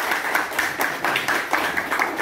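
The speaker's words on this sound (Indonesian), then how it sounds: "Tepuk tangan untuk kita semua." Audience clapping at a teacher training session, a moderate crowd of hands patting in loose pulsing bursts, steady and mid-distance with no talk over it.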